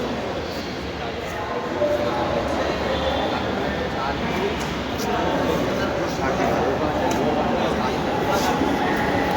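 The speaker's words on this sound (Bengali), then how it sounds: "ট্রেন চলে আসছে" A Dhaka metro rail train arrives at a station with a broad, steady rumble that swells after a couple of seconds and holds. Voices of people on the platform are heard beneath it.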